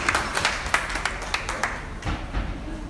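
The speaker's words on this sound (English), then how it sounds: "Big round of applause, please." An audience at the Earth Hour 2020 media launch claps, a scattered round of hand-claps with uneven rhythm, fairly close and moderately loud, with no one speaking over it.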